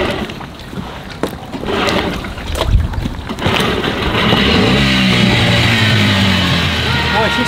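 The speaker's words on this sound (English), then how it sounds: "This will be the first time that we actually start the engine on our dinghy" A small outboard engine on a dinghy, after falling in the water, sputters and then catches, settling into a steady loud motor drone, with splashing and rough handling noises before it starts.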